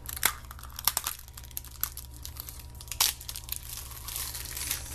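Plastic packaging around acrylic ornament halves crinkles and crackles close up in quiet, with several sharp bursts of rustling and tearing amid softer steady handling noise.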